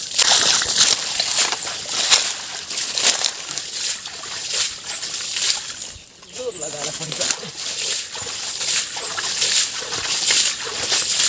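Muddy water splashed out by hand from a shallow pool, heard as continuous wet sloshing and splattering up close, with outdoor noise and people talking throughout.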